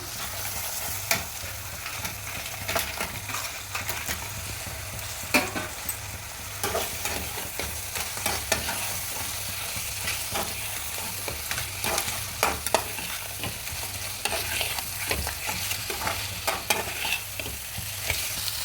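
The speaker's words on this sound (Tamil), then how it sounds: "இந்த பச்சை ஸ்மெல் எல்லாமே போகிற வரைக்கும் கொஞ்சம் நல்லா வதக்கிக்கலாம்" Steady sizzling and frying of crab masala in a pan, with occasional scraping stirs, continuous and close, no talking.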